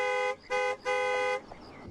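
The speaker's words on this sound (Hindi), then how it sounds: "अरे हॉर्न मारो ना भाई, ये कौन चल रहा है रास्ते के बीच में?" A car horn honks three times at someone walking in the middle of the road, a short beep then two longer blasts, clear and close over quiet background.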